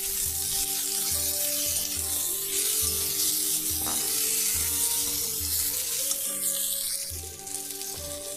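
Diced potatoes fry in hot oil after chopped tomato and onion are added, giving a loud, steady sizzle with soft rhythmic stirring knocks and occasional utensil scrapes throughout.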